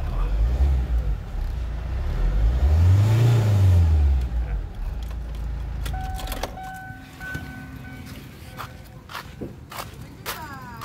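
A 2008 Kia Carnival J3 CRDi diesel engine revs up and settles during fuel line bleeding, a loud swelling roar early on, then a steadier idle with clicks and clatter from nearby handling.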